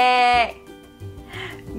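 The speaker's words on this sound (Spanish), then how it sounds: "La oveja es un animal que vive en la granja. Es de color blanco. Y dice ve." A sheep on a farm gives a loud, clear bleat at the start, which quickly fades to quieter low sounds and a faint second call.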